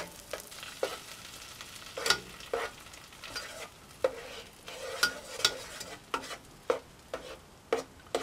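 Garlic and mushrooms for a creamy keto soup base cook in a pot as a spoon stirs them, a soft sizzle broken by repeated rhythmic clinks and scrapes of the utensil.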